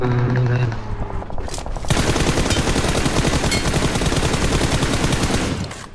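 Rapid automatic gunfire from the battle royale game PUBG Mobile, loud and nearly continuous bursts of machine-gun fire that fill the clip after a brief quieter opening with game sounds.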